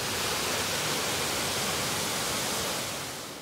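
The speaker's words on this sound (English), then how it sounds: "Here we are at the waterfall." Waterfall at Two Bear Falls on the road to Hana, Maui, a loud continuous broadband roar of rushing, splashing water that holds steady throughout and fades slightly at the end, with no voices.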